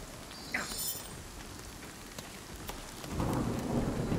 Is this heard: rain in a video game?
yes